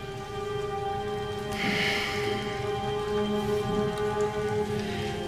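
Steady rain falls on a medieval tower setting, a continuous dense patter with a low hum beneath it and no voices.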